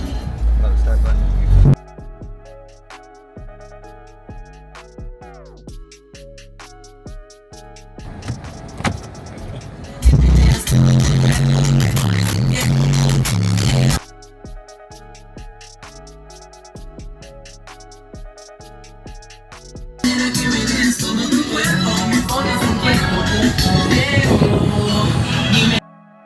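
Dodge Demon 170 race car engine cranking and firing up, bursting into a loud, rough idle roar that cuts out and then returns, alternating with stretches of background music and people nearby.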